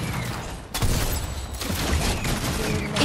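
Rapid gunfire in the video game Fortnite, a dense, loud continuous barrage with sharp bursts across the whole stretch, near and relentless.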